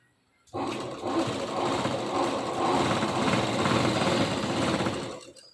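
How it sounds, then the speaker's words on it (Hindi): Sewing machine stitching salwar fabric, starting abruptly and running as a loud, continuous rattling whir for about five seconds before stopping, close up with no voices. "इस तरीके से यहीं से हम सिलाई करेंगे"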